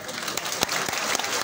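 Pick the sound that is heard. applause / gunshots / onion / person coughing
applause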